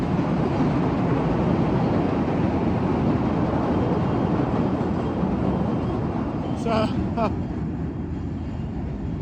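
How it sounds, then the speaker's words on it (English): A low, heavy rumble of a train passing nearby in Chicago in January fills the whole stretch, with a brief high squeal partway through. "There's another train going past."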